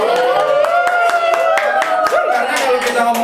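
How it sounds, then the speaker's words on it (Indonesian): People clapping in a television studio, sharp individual claps cutting through over prominent voices and tonal background sound, loud and close. "Yang di studio boleh tepuk tangan dulu dong."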